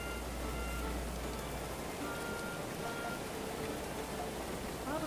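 Rain falling in a colony sim video game: a steady, continuous hiss of rainfall with a low rumble underneath, even and unbroken throughout.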